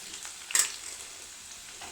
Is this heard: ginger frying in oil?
yes